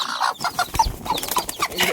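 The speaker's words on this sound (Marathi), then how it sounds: "आपण कोंबडीला उतरून घेऊया" A hen clucks repeatedly at close range beside newly hatched chicks, a run of short rhythmic clucks with a few higher chick peeps mixed in, loud and clear with no talking.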